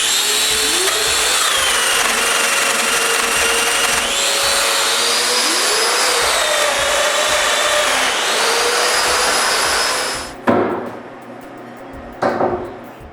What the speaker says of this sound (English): After a dry fit, I route the grooves.